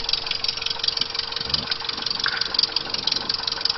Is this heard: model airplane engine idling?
yes